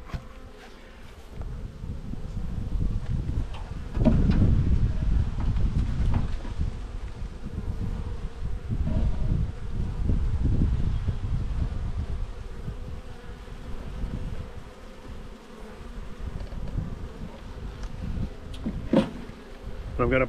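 Honeybees buzz steadily around an open hive while frames are moved from another hive during a small hive beetle infestation, a dense close drone with wind and rustling underneath.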